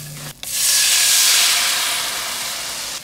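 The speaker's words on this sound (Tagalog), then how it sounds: "magtunaw tayo ng 1 kutsarang margarine, 1 kutsarang harina" Margarine melting in a pan gives a steady, loud sizzling hiss that starts abruptly after a brief pause and continues throughout, fading slightly toward the end.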